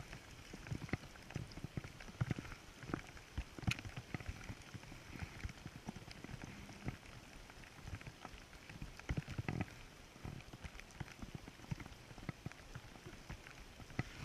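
Steady rain patters on a lake surface around a fishing boat on Lake St. Clair in bad weather, a dense continuous hiss of drops with scattered louder taps close by, no talking.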